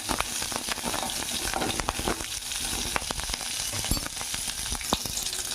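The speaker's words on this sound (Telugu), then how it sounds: "ఇదిగో పచ్చిమిరకాయలు వేగినాయి." Ten green chillies frying in a spoonful of hot oil for a tamarind chutney, a dense, steady crackling sizzle with small pops throughout, close and without talk.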